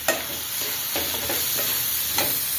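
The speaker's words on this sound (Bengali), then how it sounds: "একটু ভাজে নিচ্ছি।" Okra sizzles and fries steadily in a pan for a Bangla home-cooked dish, with occasional stirring scrapes and light clicks over the continuous crackle; no voices.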